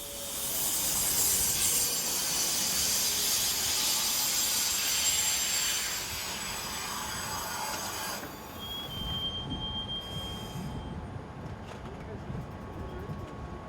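Two BLS Class 535 electric train units pull in with a northbound service, wheels squealing loudly and a hiss of brakes, the squeal easing as they slow to a rumble.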